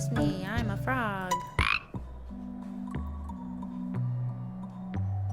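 Frog croaking in the video game Storyteller, a loud croak near the start followed by low sustained game tones and soft clicks.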